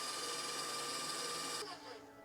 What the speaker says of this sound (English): We're gonna use our paddle attachment to our stand mixer and mix it up